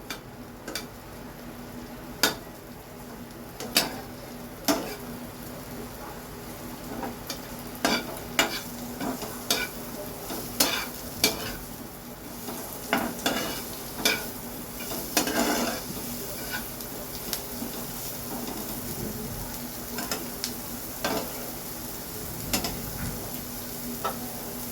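Food stirred in an already hot pan for egg korma, sparse spatula taps and scrapes against the metal over a low continuous frying hiss, close and fairly quiet.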